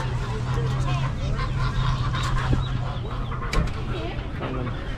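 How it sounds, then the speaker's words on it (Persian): A busy poultry market in Kelachay, Gilan, Iran, full of clucking and squawking chickens and chicks, with overlapping bird calls and people talking in the background. "این هم بازار مرغ جوجه"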